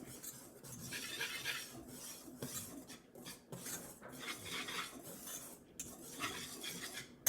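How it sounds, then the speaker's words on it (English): A whisk clinks and scrapes quickly around a bowl, mixing flour, baking powder, baking soda and salt for biscuits, in a steady rhythm of faint metallic ticks and rasps with short pauses. "I'm going to whisk everything up."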